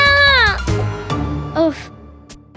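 A cartoon cat gives a loud, drawn-out meow with a falling pitch, followed by a couple of shorter mewing calls amid other animated sound effects.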